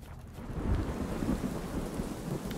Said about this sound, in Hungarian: Erre elkezd esni az eső.